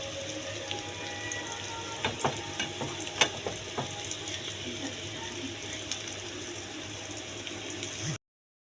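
Mustard seeds and green chillies fry in hot oil, a steady close sizzle punctuated by sharp crackles and pops from the seeds, fairly quiet overall and ending abruptly.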